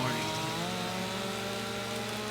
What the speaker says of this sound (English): There's nothing like the sound of a chainsaw in the morning.